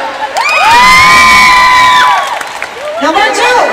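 A crowd cheers for a singing contestant, with loud high-pitched shrieks and whoops from what sound like young girls, swelling together and then trailing into scattered shouts and a little clapping.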